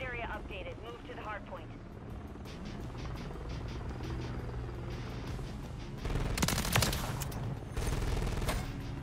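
A helicopter killstreak in Call of Duty: Modern Warfare III hovers overhead as a steady rotor drone, with bursts of gunfire growing louder in the second half and radio-style game voices over it.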